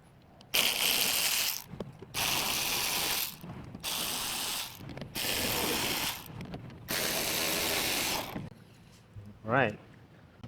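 A ratchet spins out 7mm bolts on the rear bumper of a 2017 Cadillac Escalade in four loud, close bursts of fast clicking separated by short pauses, followed by a faint shuffle and a brief squeak.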